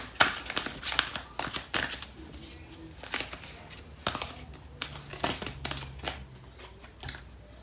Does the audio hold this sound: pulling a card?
yes